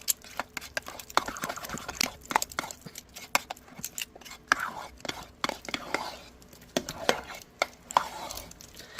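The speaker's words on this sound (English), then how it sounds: "We've got to scrape out around the edges and bring it around and get it blended throughout" A spoon stirs and scrapes thick hot process lavender soap around the edges of a pot, giving repeated sharp clacks and scrapes in an irregular rhythm, close up, with occasional quiet speech between strokes.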